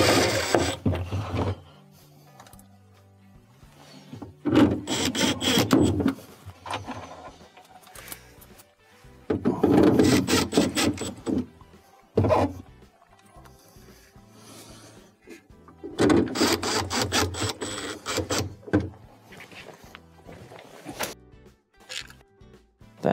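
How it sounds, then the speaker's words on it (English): Screws being driven back into a refrigerator panel during an evaporator fan motor repair, in three or four bursts of close mechanical ratcheting and whirring separated by short quiet pauses, with no talking. "Now let's go ahead and reinstall the screws."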